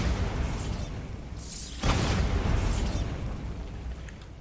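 A Bombarda blasting spell goes off in Hogwarts Legacy, a sudden loud explosive burst in the middle of the clip over a steady rushing game ambience, with whooshing tails around it.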